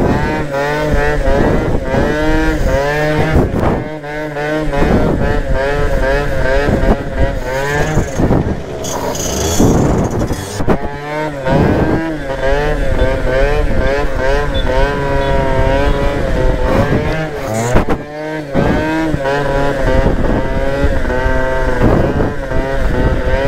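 A 50cc moped is ridden on one wheel in a wheelie, its small engine revving loudly and close by. The pitch climbs and falls continuously with short throttle dips along the way.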